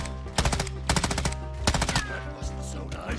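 An M13B rifle fires in Modern Warfare 2: three short, loud automatic bursts of sharp rapid shots, each a fraction of a second long, with brief gaps between them.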